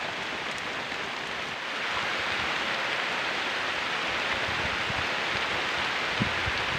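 Steady rain falls on a plantation, a dense, even hiss of drops on leaves and ground that holds constant throughout and swells slightly after the first couple of seconds, with no voices.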